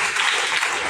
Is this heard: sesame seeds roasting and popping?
no